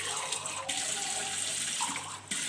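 Half a glass of water poured into a cooking pot on a stove while making tinda chicken, a steady splashing gush lasting a couple of seconds with brief breaks in the flow.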